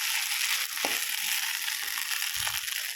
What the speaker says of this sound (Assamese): ভাত অকণ ফ্ৰাই কৰিছো আৰু